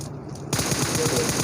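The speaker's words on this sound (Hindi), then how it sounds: "तो M416 के शॉट्स दिए, बहुत अच्छा खेले यहाँ पर" Rapid automatic gunfire from an M416 rifle in the PUBG Mobile game, a dense burst of shots starting abruptly after a brief quiet moment and continuing loudly to the end.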